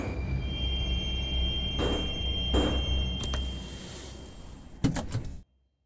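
Metro train sliding doors in the Moscow Metro Simulator 2D game slide and thud shut at a station, with a low hum of the running train throughout and a sharp clunk near the end.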